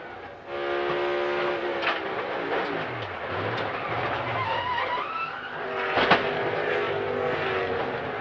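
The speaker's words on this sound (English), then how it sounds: "I don't know if the tire went, you know, it was smoke, like the rotor blew up, like Kevin said." Loud NASCAR Cup Series stock car racing at World Wide Technology Raceway after a blown right-front brake rotor, a steady roaring engine and road drone with a sharp bang near the end, no talk.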